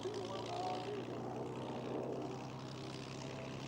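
Propeller-driven vintage fighter planes at an air show give a faint, steady droning engine hum, partly under a narrating voice.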